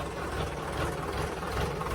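A tractor engine runs steadily while puddling a paddy field during rice transplanting, a continuous close mechanical drone with a low rumble and slight vibration, no voices.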